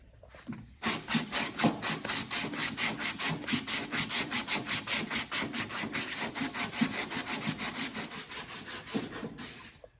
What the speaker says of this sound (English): So keep sanding right there